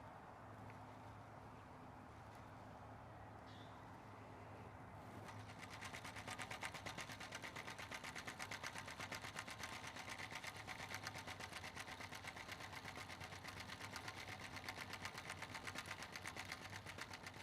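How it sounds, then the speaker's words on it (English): A fishing rod handle is tapped against a bass boat on the Pasquotank River during an Elite Series bass tournament; after a quiet start, a rapid, steady mechanical tapping begins and runs on, close and engine-like. "That's Kyle Welcher tapping the handle of his rod"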